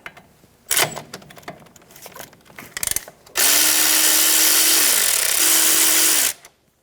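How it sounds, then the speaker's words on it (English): A power tool with a 12mm socket spins out the brake line bracket bolt on a 2005-2010 Toyota Tacoma front suspension. Clicks and handling noises come first, then a loud, steady whir of about three seconds with a brief dip in pitch partway through. "Using a 12mm socket,"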